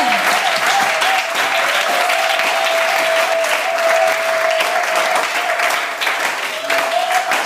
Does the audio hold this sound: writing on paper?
no